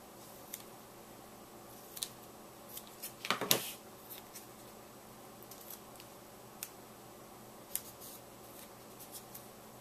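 Scissors snip through a piece of craft foam in a quiet room, a few faint clicks and one louder, close cutting crunch midway, with light handling noises around it.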